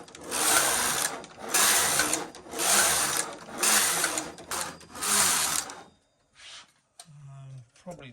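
Knitmaster knitting machine with ribber knitting rows: five rhythmic loud carriage passes, each a rattling mechanical whoosh about a second long, followed by quieter clicks and handling noises.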